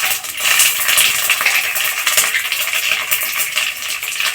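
Urad dal and chana dal are dropped into a hot oil tempering with cumin and mustard seeds in a pan, giving a steady bright crackle and sizzle with small spitting pops, close and fairly loud with no talk.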